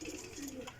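Breeder pigeons kept as a pair in a coop in Jhelum give soft, low cooing that runs steadily through a short moment, close to the microphone.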